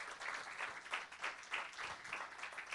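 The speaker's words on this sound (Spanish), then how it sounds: "Denle un aplauso, pero déselo fuerte al Señor." A church congregation claps for the Lord, a faint, distant wash of clapping that swells in soft rhythmic pulses, heard without talk.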